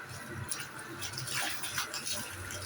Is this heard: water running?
yes